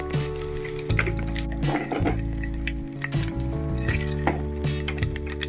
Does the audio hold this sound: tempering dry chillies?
yes